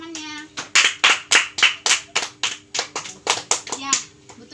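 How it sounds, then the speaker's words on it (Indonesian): Schoolchildren in a classroom give a round of applause for a classmate: a dozen or so loud, rhythmic group claps close by, steady in pace and fading at the end. "Beri aplaus dulu untuk temannya."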